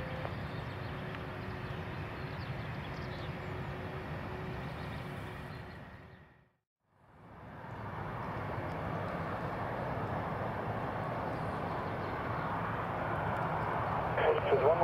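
A Brussels Airlines airplane at Zurich Airport rumbles with a steady, moderately distant engine roar, briefly dropping out midway before returning and swelling slightly by the end.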